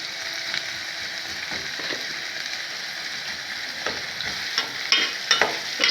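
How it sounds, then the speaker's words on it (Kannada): Salted onions fry in a pan for tomato gojju, a close, continuous sizzle with repeated scraping strokes of the spatula that grow louder toward the end, with no voices. "ನೋಡಿ ಫ್ರೆಂಡ್ಸ್, ಈರುಳ್ಳಿ ನೀಟಾಗಿ ಫ್ರೈ ಆಗಿದೆ."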